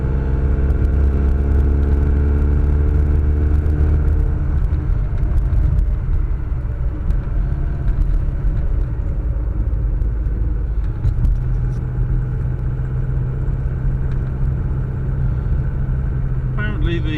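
A classic Mini 1000 with an automatic gearbox drives along, giving a steady interior engine rumble and drone that shifts pitch as it moves, with light clatter over the road noise.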